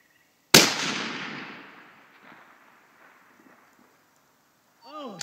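A single sharp .308 rifle shot cracks out at a long-range target 1670 yards away, followed by a rolling echo that fades over a couple of seconds, with a voice speaking briefly afterward.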